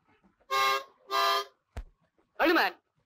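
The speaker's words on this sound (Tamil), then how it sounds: "ஹார்ன் அடிங்க." A car horn honks loudly nearby in short, separate blasts at someone standing in the road, with a brief sharp knock between them and quiet in the gaps.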